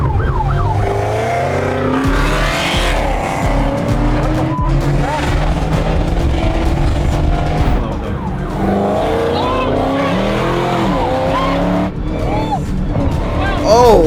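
A car switched into Sport driving mode accelerates hard, its engine note rising and falling loudly through repeated revs, while people talk and shout over it.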